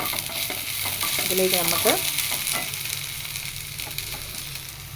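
Okra (ladies' finger) sautés in a hot pan on low flame for a tomato curry, a continuous sizzle with scraping stirs, louder early on and easing slightly, while a voice briefly talks over it.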